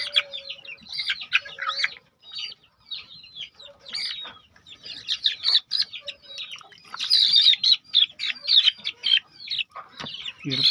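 Chickens clucking and chattering on a poultry farm, a busy overlapping flock with repeated close clucks and squawks, some louder bursts and brief pauses, no voice heard.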